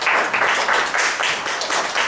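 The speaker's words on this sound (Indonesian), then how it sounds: "Tepuk tangan buat Prudential." Audience clapping at an Indonesian Prudential business presentation, a steady moderate burst of applause from a room of people, lasting a couple of seconds with no talk over it.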